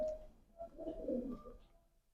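A breeder pigeon gives a soft, low coo lasting about a second, close by and quiet in an otherwise calm loft.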